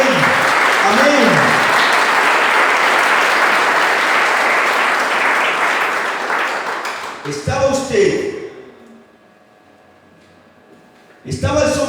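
A church congregation breaks into loud, dense applause that holds for about seven seconds before fading, then a voice speaks, followed by a quiet stretch and more speech.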